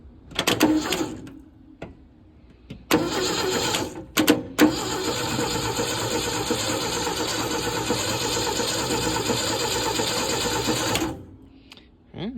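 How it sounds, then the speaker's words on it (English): Starter cranking the engine of a 1972 Ford F100 with the starter solenoid jumped: a few short bursts, then a steady, loud, whirring crank for about seven seconds before it cuts off. "So now I'll just jump the solenoid right here. See, give her a whirl. See what she sounds like."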